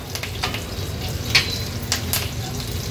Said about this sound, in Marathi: हिंग घातल्यानंतर कढीपत्त्याची पानं फोडणीला देऊया। नंतर जिरं अर्धा चमचा